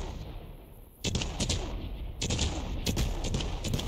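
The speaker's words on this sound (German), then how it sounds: "Es explodiert immer noch." Continuing fireworks explosions in the video game Fireworks Mania, a dense run of booming bursts and crackling pops that intensify partway through, loud and busy with no talking over them.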